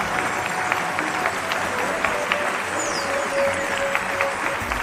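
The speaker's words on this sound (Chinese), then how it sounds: "热烈嘅掌声" An audience claps steadily at the 2011 33rd Top Ten Chinese Gold Songs Awards concert, a sustained wash of applause from a large hall crowd with scattered louder claps throughout.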